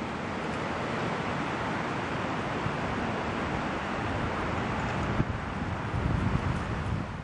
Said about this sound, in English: Wow, listen to the wind.